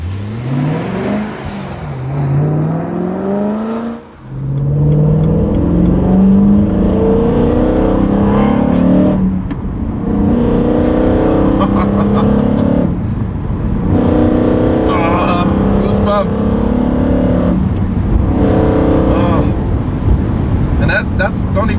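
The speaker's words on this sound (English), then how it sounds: "I know it's a S65 because it's this metallic-y, mechanical noise" A BMW M3 with the S65 V8 revs hard with a metallic, mechanical snarl, rising in pitch over the first few seconds and then holding a loud, sustained drone with further throttle swells.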